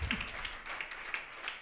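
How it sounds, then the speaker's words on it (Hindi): Audience applause after an Odissi dance performance, a short spell of faint, distant clapping in a hall. "वृंदा जिन्होंने राधा का रोल किया है, उनके लिए बहुत जोर से तालियां।"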